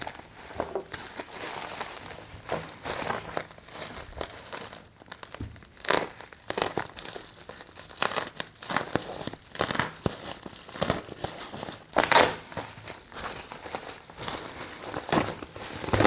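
Plastic wrapping around a book package crinkles and tears steadily while being unboxed, a dense run of close crackling and rustling with a few sharper rips, no talking.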